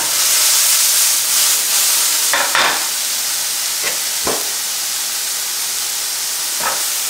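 Mushrooms and onions sizzle in a pan, a steady broadband hiss with a few short clatters of stirring, close and fairly loud with no talk.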